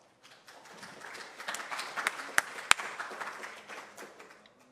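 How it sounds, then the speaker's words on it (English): A small lecture audience gives brief, scattered clapping that builds to a few sharp claps and then fades out, with no voices over it. "Look at that, even got a clap."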